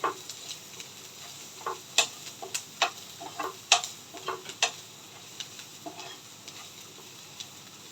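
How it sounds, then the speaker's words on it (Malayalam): A spoon stirs turmeric powder into a home-cooked curry in a pan, scraping and knocking against the metal in a quick, irregular series of close, distinct clicks over a soft background sizzle, with no talking. "മഞ്ഞപ്പൊടി ഇട്ടിട്ട് ഒന്ന് ഇളക്കി കൊടുക്കാം"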